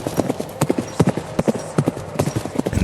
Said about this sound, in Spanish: Los cascos del caballo están más cerca, tan cerca que siento la vibración del suelo bajo mis pies.